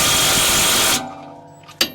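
A Milwaukee mid-torque impact wrench hammers on 19mm caliper bracket bolts of a Honda Pilot, a loud close burst of rattling impacts lasting about a second, then stopping, followed by a faint whir and a sharp short clack.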